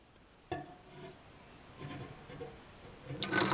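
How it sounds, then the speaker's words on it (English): Lye water being poured slowly into warm grease for homemade lye soap, a soft liquid pour with rubbing and splashing that swells louder toward the end, close and alone. "add that lye water to that grease"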